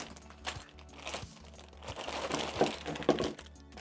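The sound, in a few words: plastic accessory bags for Wooting 80HE keyboard being handled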